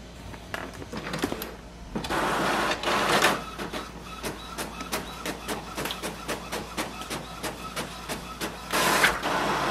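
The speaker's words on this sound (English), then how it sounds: "Printer is working and it is connected." An Epson WorkForce Pro WF-3820 inkjet printer prints a test page. Its print head carriage makes rhythmic mechanical whirs and clicks, repeating back and forth at a steady pace, loud and close, with motor buzzing throughout.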